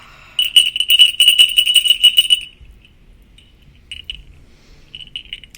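Small bells jingle in a rapid, bright shimmer for a couple of seconds, then fade to a few faint, scattered tinkles.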